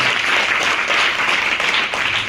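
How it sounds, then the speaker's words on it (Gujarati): Steady, dense applause from a crowd at a school birthday celebration, continuous and fairly loud throughout with no pauses. "જોરદાર મહેમાનો માટે આપણે જોરદાર તાળીઓથી આપણે નવાજી લઈએ."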